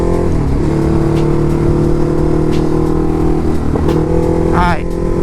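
A motorcycle engine runs steadily with a mid-pitched drone as the bike is ridden, the rider's close voice speaking over it, with small throttle changes and wind noise throughout.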